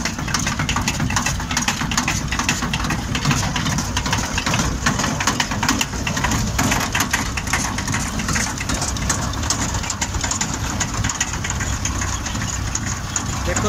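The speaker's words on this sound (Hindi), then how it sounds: "देखो दोस्तों ट्रैक्टर पर कोई खास लोड नहीं है।" A tractor engine idles steadily at around 1200-1300 RPM while driving a soil loader with little load, a loud, continuous knocking diesel chug close by for the whole stretch.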